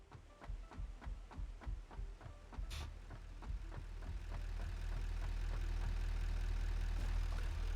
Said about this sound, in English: did we not turn the van off? Has it just been idling this whole time?